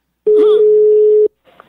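A single loud, steady telephone tone sounds for about a second on a call, sharp and close, followed by a brief faint trailing sound.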